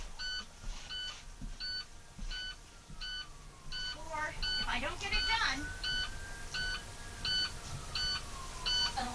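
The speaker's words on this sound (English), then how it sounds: "So when I turn this bus off, do you hear that beeping?" Repeated electronic beeps from a school bus child check reminder, sounding after the engine is switched off, pulse steadily about once per second while a person talks over them nearby.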